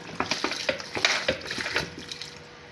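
Water poured into a cooking pot holding garlic-ginger paste, tomatoes and green chillies for an Eid ul-Adha dish, a brief close splashing gush with uneven bursts that taper off, no talking.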